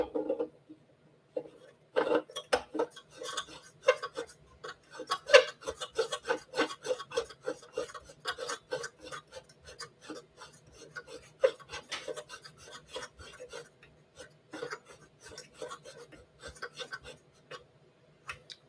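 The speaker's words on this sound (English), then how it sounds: "now we take it and we just screw it in" A small part for a Hario V60 pour-over coffee setup is screwed in by hand and tightened, giving a close run of quick, dry rasping ticks and light rubbing clicks in an irregular rhythm, with no talk over it.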